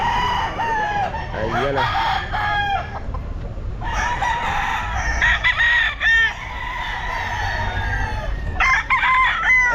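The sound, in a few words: Raptor Sweater gamefowl rooster crowing at pet market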